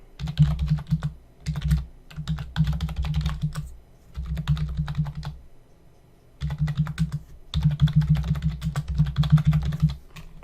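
Fingers type on a computer keyboard in quick bursts of close, crisp key clicks broken by short pauses, entering credit card details during an online course purchase, with no voices.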